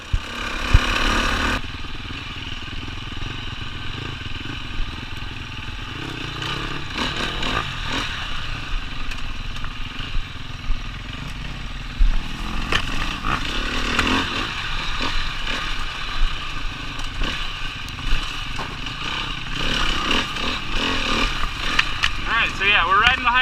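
Sherco 300 four-stroke dirt bike ridden close by and popping a wheelie, its engine a steady buzzing drone that surges as the throttle opens, with voices talking over it throughout.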